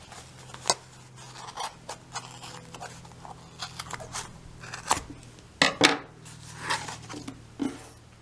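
Scissors cutting ribbon for a yarn bird craft, with several crisp snips and scraping blade sounds at irregular intervals, close and fairly loud, no talking.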